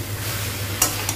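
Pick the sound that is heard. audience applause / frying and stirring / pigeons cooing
frying and stirring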